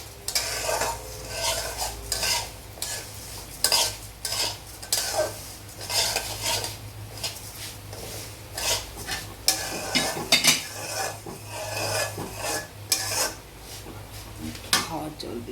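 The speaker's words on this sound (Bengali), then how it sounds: "মুগ ডালটা ভেজে নিচ্ছে মা।" Mung dal fries and gets stirred in a pan, with repeated loud metallic scrapes and clinks of a spoon against the pot over a faint sizzle, close up and busy throughout, with a voice heard in the background.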